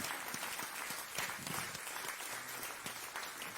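A church congregation applauds together in steady, dense clapping that fills the room for several seconds without letup, with no voices standing out above it.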